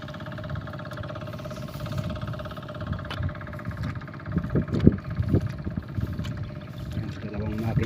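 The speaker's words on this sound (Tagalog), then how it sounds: "Dalawang makina po yung umandar." Two irrigation pump engines watering a rice field run steadily with a low knocking rumble and vibration, some irregular thumps and clatter over the top.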